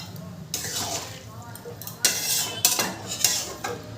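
A spoon scrapes and clinks against a metal pot while stirring vegetables with water for a vegetarian navratan korma, giving several sharp, close metallic knocks between softer sloshing movements.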